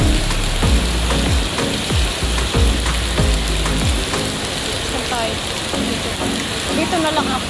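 Steady rain pouring outdoors, a dense hiss with drips and pattering spattering on surfaces, occasional thumps and faint voices underneath.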